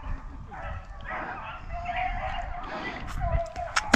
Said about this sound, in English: Good pack of rabbit dog.